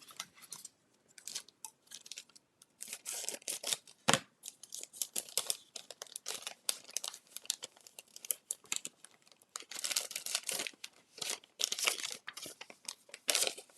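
Scissors snip through paper and card in a cluttered craft studio, with scattered sharp cuts mixed with paper crinkling and rustling, fairly quiet and irregular, with no talking.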